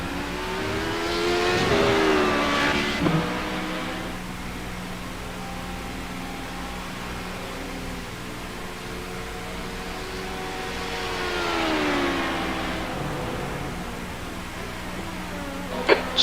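Race cars in an iRacing Le Mans endurance race pass by in two distinct swells, a first car roaring past around two seconds in and another sweeping through later, over a constant, fairly faint engine drone.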